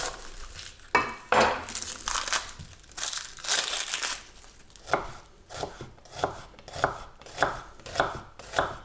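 Onions being chopped with a knife on a board for goat cheese puff pastries, a run of crisp, close, rhythmic cuts that falls into a steady beat in the second half, with no talk.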